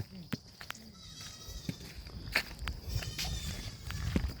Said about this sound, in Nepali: बाख्रा